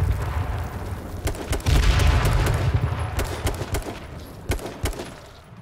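A molotov grenade is thrown and bursts into flame in a shooter video game, a loud whooshing roar of fire swelling and fading beneath scattered sharp gunshots and cracks.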